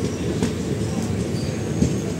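Kakinada Express rumbles steadily as it rolls into Kakinada Town station, a continuous close, loud carriage drone with faint wheel clatter.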